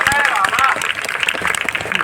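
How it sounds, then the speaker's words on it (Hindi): Audience clapping at a Hindi kavi sammelan poetry recital, a dense patter of many hands mixed with crowd murmur and some voice-like tones, steady and fairly loud throughout. "तालियां कमजोर है मोहम्मदी वालों"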